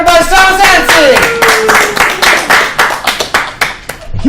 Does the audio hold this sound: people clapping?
yes